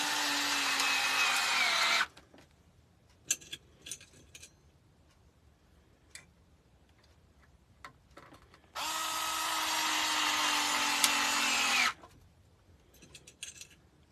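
Power drill driving small screws into old wood while building a coke crate footstool; two sustained whirring runs of about two and three seconds, loud and close, separated by quieter handling taps.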